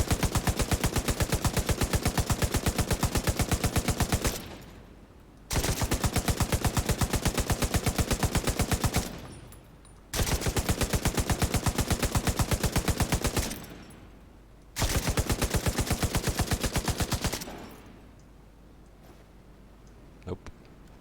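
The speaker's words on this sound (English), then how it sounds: "Take a machine gun and shoot it very hard." Machine gun bursts in The Division 2, three long rapid-fire strings of loud, evenly spaced shots, each lasting several seconds, with brief pauses between them and a faint click at the end.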